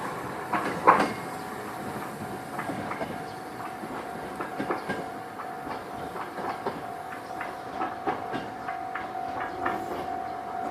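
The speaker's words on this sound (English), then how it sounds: "The train's hitting these leaves." An old train in Japan runs along tracks strewn with leaves, giving a steady rumble with rhythmic clickety-clack and a persistent tonal whine, heard from inside the car.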